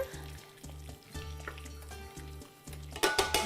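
Flour cooking in melted butter in a pan gives a soft, steady sizzle with faint bubbling, quiet and close, broken by a few light scraping clinks of a utensil near the end.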